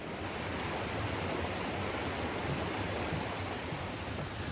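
A stream in the Pennsylvania Wilds flows in a steady, broad, rushing wash of water that stays constant and fairly loud throughout, with no voices.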